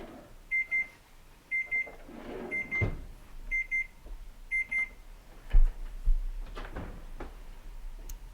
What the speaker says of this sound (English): Oh, my beeper's going off.